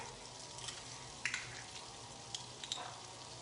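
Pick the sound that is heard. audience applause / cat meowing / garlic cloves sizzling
garlic cloves sizzling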